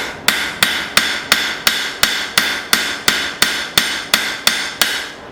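An old file being hammer-forged on the anvil horn: about a dozen evenly spaced, ringing metallic strikes, loud and close, each decaying briefly before the next, no talking.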